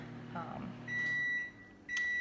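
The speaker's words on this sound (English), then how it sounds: "And there is my microwave for my peanut butter." Kitchen microwave oven melting peanut butter for candy, a low running hum followed by two loud, sustained electronic beeps, with a faint voice underneath.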